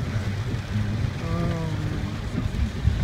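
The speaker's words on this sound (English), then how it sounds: "This is how much it is raining present." Heavy rain falling outdoors near a hotel during a convention trip, a dense steady hiss with muffled low rumble throughout, close and constant, with a faint voice-like tone briefly in the middle.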